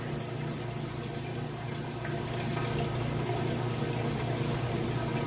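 Kenmore washing machine shifting into its high-speed spin cycle, draining water out: a steady, continuous rushing and whirring hum with a strong low drone, loud and unbroken throughout with no talking.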